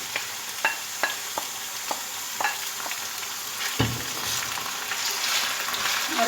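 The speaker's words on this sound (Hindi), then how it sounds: "और अब कीमे को मैं अच्छी तरह से भून लूंगी।" Minced keema frying in a hot pan gives a steady close sizzle, with a spoon scraping and stirring at a regular beat of about two strokes a second, then a heavier clank as the sizzling swells.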